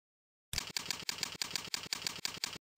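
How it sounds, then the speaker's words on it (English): Keys clatter on a computer keyboard while a message is typed, about nine quick bursts of clicks in a steady rhythm, close and fairly quiet, with no voices. "Type your message."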